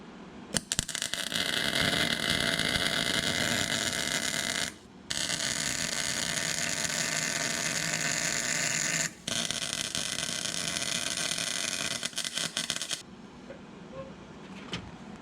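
MIG-style welding fills plug welds on a Volkswagen beam-type front axle during a 1960 Beetle steering beam extension build, a loud continuous crackling buzz in three long bursts separated by brief pauses.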